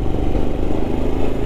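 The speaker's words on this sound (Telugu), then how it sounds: "అండ్ ఈ బైక్ మీద ఇదే నా ఫస్ట్ రైడ్" A Royal Enfield Himalayan motorcycle runs near Mypadu Beach in Nellore, its engine giving a steady, close, low throbbing rumble with wind noise and no talking.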